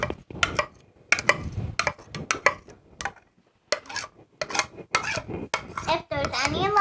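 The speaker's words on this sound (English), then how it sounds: "It would probably be easier just to take the entire bowl and just start dumping with the spoon" Batter is scraped out of a bowl with a spoon in repeated clinking, scraping strokes, close and fairly loud, with a short pause midway and then quicker scrapes.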